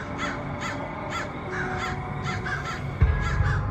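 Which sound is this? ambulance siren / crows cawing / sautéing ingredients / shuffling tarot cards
crows cawing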